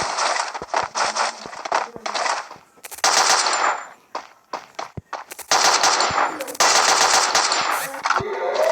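Automatic gunfire in a video game comes in loud, close bursts of rapid shots, with short gaps and scattered single cracks between the volleys.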